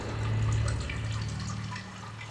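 Steady water flowing through a damp, smooth-walled rock cave in the game Sisyphus Reborn, a continuous close rushing with a low hum underneath that eases slightly toward the end.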